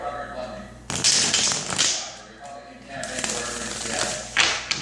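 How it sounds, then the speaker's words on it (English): Tarot cards are shuffled in a few quick riffling bursts, close and crisp, with soft talking underneath. "3 shuffles."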